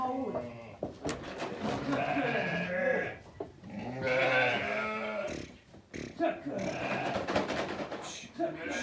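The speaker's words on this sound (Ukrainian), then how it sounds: "Ягнятка забирають, а вівці пускають їсти." Sheep bleating repeatedly on a Ukrainian farm, several overlapping calls at close range with a grunting, goat-like quality, loud and continuous, while people talk in the background.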